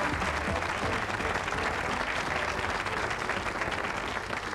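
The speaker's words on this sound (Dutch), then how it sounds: "Ontvangt u haar met een hartelijk applaus." A studio audience at a Dutch television show applauds warmly, a steady, dense wash of clapping that stays loud and even throughout with no talking over it.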